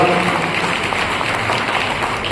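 An audience at a BAMSEF activists' gathering gives loud, continuous applause to welcome two activists, with a dense, close crowd of clapping throughout.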